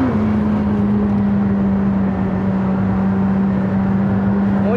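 A McLaren Senna's 800 hp engine roars loud and steady at full power from inside the cabin, a sustained, unbroken drone on the Nordschleife, with no voices over it.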